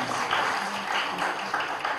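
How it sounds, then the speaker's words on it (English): A crowd claps steadily throughout, a dense wash of applause filling the room at a film music launch event, with no pauses. "A big round of applause for Raj Saab."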